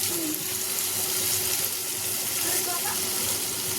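A roasted ground masala of chilli, ginger and garlic sizzles and fries in a pan for pea pulao, a steady close hiss throughout, with someone speaking over it.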